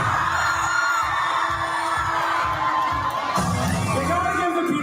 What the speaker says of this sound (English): these people are like yelling and screaming and cheering because they show him